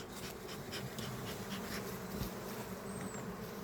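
Honeybees inside a hive hum with a dense, continuous buzzing drone, quiet and steady throughout.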